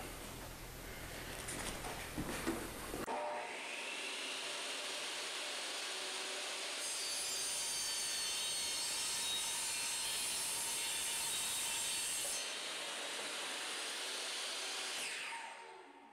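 Power saw cutting a vinyl plank down to height for a stair riser, a loud steady whine that holds for about twelve seconds after a brief start-up, then winds down at the end.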